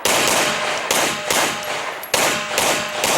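Pistol gunshots ring out at an IDPA shooting match at Charlotte Rifle & Pistol Club, a series of loud, sharp cracks in quick pairs and singles, each followed by a short echoing decay.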